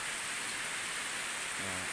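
Steady rain falls on a banana plantation in a stormy season, a dense, even hiss of drops on leaves and ground that runs throughout, with a brief low hum toward the end.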